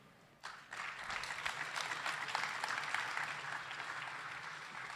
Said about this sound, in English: big applause for Porter